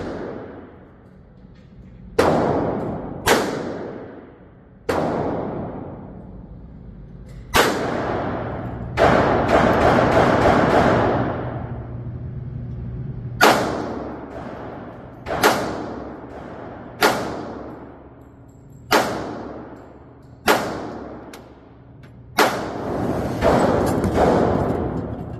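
Gunshots fired at an outdoor shooting range, a dozen or so loud sharp cracks at irregular intervals, each trailing into a brief echo, with no talking over them.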